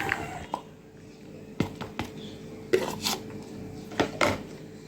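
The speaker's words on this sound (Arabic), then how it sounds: "هنزل بقى بالخضار، انزل الطماطم، الكوسه، الفلفل الالوان" Tomatoes, zucchini and colored peppers drop into a cooking pot for a meat and vegetable stew, a few scattered soft thuds and light metallic clinks close up.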